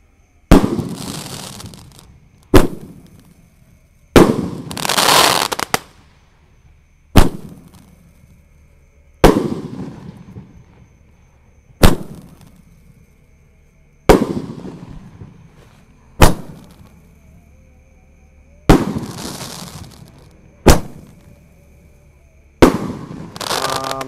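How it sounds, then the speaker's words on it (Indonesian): Large Roman candle fireworks set off before dawn during Ramadan in an Indonesian village, firing about eleven loud, sharp bangs at a steady rhythm, each trailing a crackling fizz and echo, with no voices. "terima kasih sudah mengikuti bangunin sahur menyalakan mercon Roman candle"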